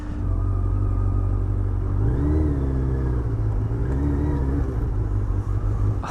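A Suzuki Hayabusa motorcycle pulls away into traffic, its engine rumbling loud and close with a couple of rising rev swells as it accelerates through the gears.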